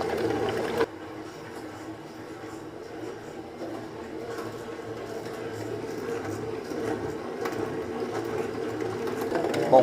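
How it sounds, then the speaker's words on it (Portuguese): A stand mixer whips chantilly cream at medium speed in a pastry lesson, giving a steady motor whir that runs the whole time after a brief start. "Vou ligar o nosso motor."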